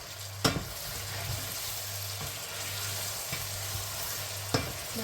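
Eggplant pieces frying in oil in a pan, a steady low sizzle broken by a few sharp scraping clicks of a stirring spoon against the pan, close and alone with no talk.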